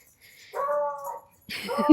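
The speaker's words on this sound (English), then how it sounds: "There's another dog." A dog heard outdoors on a walk gives a short whining yelp followed by a brief bark-like cry, both quick and fairly close.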